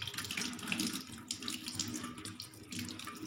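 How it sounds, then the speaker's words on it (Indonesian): Water runs steadily from a tap over rinsing hands at a sink, a continuous splashing hiss with small shifts as the hands move under the stream, close and alone. "setelah itu bilas kembali menggunakan air yang mengalir"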